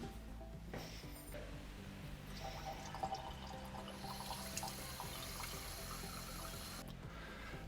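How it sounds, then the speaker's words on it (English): About 10 ml of water is poured through gauze into a jar of seeds, producing a faint, steady trickle and splash against low background hiss. "So I've just covered the seeds with about 10 ml of water."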